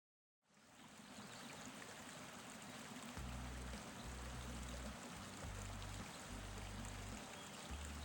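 A mountain brook in an alpine meadow among tall pines babbles steadily, a continuous close rushing trickle that fades in at the start, with intermittent low rumbling underneath and no voices.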